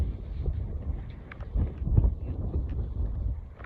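Gusty wind buffets the microphone on a Lake Michigan beach at Grand Haven, a low rumbling roar that swells and fades in uneven surges with no talking.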